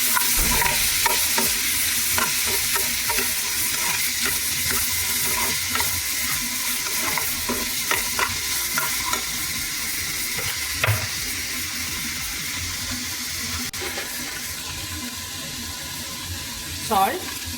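Vegetables with tomato sizzle steadily in a hot pan while a utensil stirs and scrapes in irregular clicks, the frying a continuous close hiss throughout.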